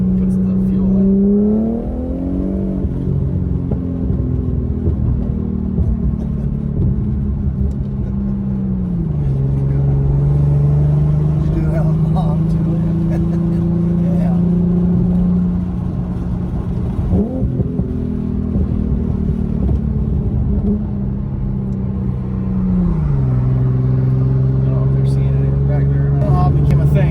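An Infiniti Q50 engine revs repeatedly, its loud, steady drone climbing past 4,000 rpm and falling back several times across the stretch, with voices occasionally underneath.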